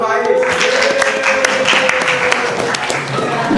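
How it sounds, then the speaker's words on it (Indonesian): Classroom applause for a student during a quiz results announcement, scattered clapping mixed with a steady tone and chatter from people in the room. "Tepuk tangan untuk Faiz"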